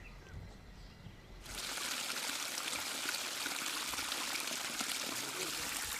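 Water pours and streams steadily into a forest reservoir in a wildlife sanctuary, starting abruptly after a quiet moment and then continuing as a close, broad, even rush.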